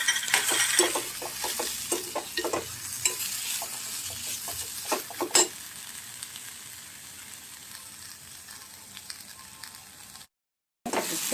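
Cashews stir-fried in a pan for a dhaba-style matar paneer, a spatula scraping and clinking against the metal in quick irregular strokes over a soft sizzle, busy at first and then settling into a quieter hiss.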